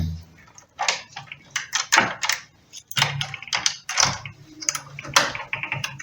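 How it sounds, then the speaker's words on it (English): Hotel room door in a budget hotel in Kenya being unlocked, with close clicking and rattling of the lock mechanism and handle in several bursts, plus faint background sounds. "Now I just want to uh, unlock the door."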